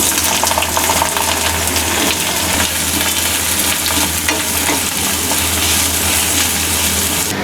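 Two large sliced onions sizzle and fry steadily in hot oil in a pan, with a dense, continuous crackle and occasional stirring, loud and close throughout with no talking.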